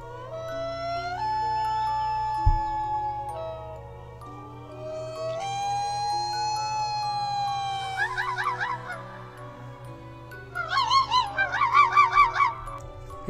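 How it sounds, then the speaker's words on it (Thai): A processed bird call with sliding, siren-like tones and honking notes, ending in rapid warbling trills; loud and close, no voices. "ทีนี้เราลองเปลี่ยนเป็นฟังเสียงของนกน้ำลายดำเวอร์ชันที่ปรับแต่งเล็กน้อยแล้วนะครับผมเป็นเสียงนี้"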